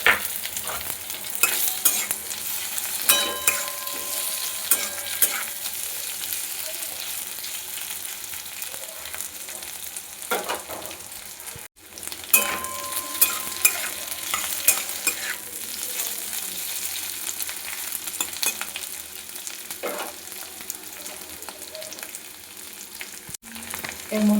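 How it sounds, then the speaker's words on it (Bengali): Boiled cut potatoes sizzling in a pan with lightly fried onion and garlic, a steady crackling fry punctuated by repeated scraping and clacking as a spatula stirs, loud and close with no talking. "পেঁয়াজ রসুনটা একটু ভাজা ভাজা হয়েছে, এর মধ্যে দিয়ে দেবো কেটে রাখা আলু,"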